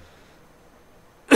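A single sudden cough from a lecturer with an irritated airway, close and loud, bursting out at the very end after a near-silent, faintly hissing room.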